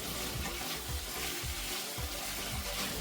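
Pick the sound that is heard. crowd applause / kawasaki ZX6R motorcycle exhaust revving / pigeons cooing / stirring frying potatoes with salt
stirring frying potatoes with salt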